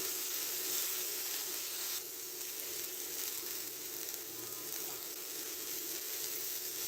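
Chicken spring roll filling sizzles and hisses steadily in a hot pan, a loud continuous frying sound with no talking.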